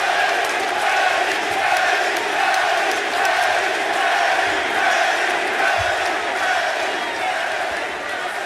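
Wrestling arena crowd roaring and cheering for the challenger at a championship match, a dense, sustained wall of shouts and chants from a large audience that holds loud and steady throughout.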